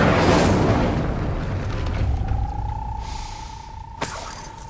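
A fire spell cast in the Hogwarts Legacy video game: a loud, roaring blast of flame that gradually fades into a steady tone, followed by a short sharp crack near the end.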